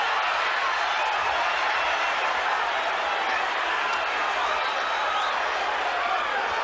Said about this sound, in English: This crowd is right into this fight, right at the bell.